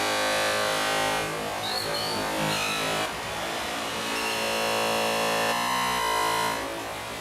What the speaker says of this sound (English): the feedback is not only the feedback for the echo, it's also a distortion effect